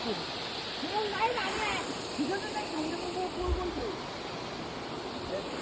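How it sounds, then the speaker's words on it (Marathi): A small waterfall at a hidden outdoor spot gives a steady, close rushing hiss of falling water, while voices talk faintly over the noise. "मिनी धबधबा"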